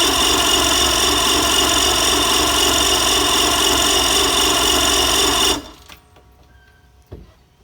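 A loud, steady mechanical whine and rattle of a Sea-Doo Speedster's Mercury Sport Jet engine cranking over for several seconds, then cutting off abruptly, leaving near silence with one faint knock.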